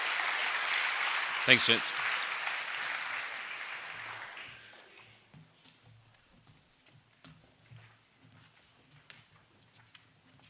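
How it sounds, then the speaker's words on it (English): Audience applause for Cultural Commendation Award winners at a school co-curricular awards ceremony, fairly strong at first with a brief knock, then fading out over several seconds into quiet room noise and a short spoken thank-you. "Please put your hands together for our Cultural Commendation Award winners for 2025."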